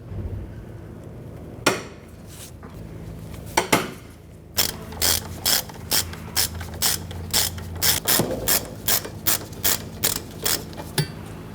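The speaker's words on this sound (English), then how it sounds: "Remove the two 18mm bolts securing our brake caliper bracket. You can use a ratchet or a breaker bar." A breaker bar loosens tight, rusty 18mm caliper bracket bolts on the rear brakes of a 1999-2004 Jeep Grand Cherokee. A few scattered metallic knocks are followed by a close, loud run of about a dozen evenly spaced ratcheting clicks.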